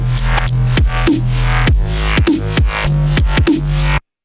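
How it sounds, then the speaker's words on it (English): A synth bass line made from a Massive patch in Maschine for a glitch hop track plays loud and alone: a throbbing, moving low tone with repeated sharp clicky hits and a sweeping high edge, cutting off abruptly at the end. "I'll play you the original bass line that I made just using a massive patch"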